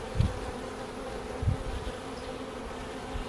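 Honey bees hum in a steady, continuous drone around an open hive during an inspection, a dense close buzz with a couple of soft low bumps from handling frames, and no voices.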